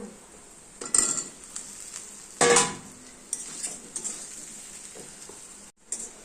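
Ground cumin, coriander and chilli powders fry and get stirred in a pan with taro, giving a steady sizzle broken by a few loud scraping clatters of a spoon against the metal.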